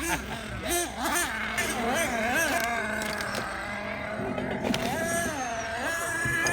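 A nitro RC car engine, a DYN.28 tuning motor, runs continuously through break-in with a steady high whine that rises and falls in pitch, close by and loud, with people talking over it.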